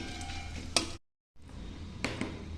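Whole spices, cumin seeds, bay leaf, dried chilli, cinnamon, cardamom and cloves, temper in hot oil with a quiet, faint sizzle, broken by a short silent gap and a couple of brief louder crackles or stirring clinks.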